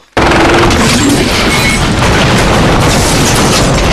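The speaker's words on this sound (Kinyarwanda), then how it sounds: "rocket launcher" Rocket launcher blast in a dubbed action movie, a sudden loud boom that bursts in after a brief hush and keeps roaring as a dense, sustained rumble of debris and noise.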